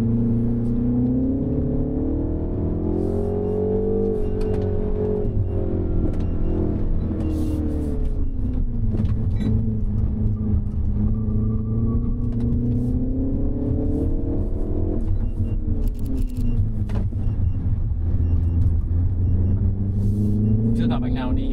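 Mini Cooper S 2025 driving on a road near Ba Vi, with a steady low engine rumble and whir rising and falling as it accelerates, close and continuous throughout, with people talking over it.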